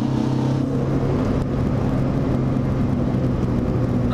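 Car on budget coilover suspension driving over a bumpy road, a steady loud cabin rumble and road roar throughout with faint knocks from the surface.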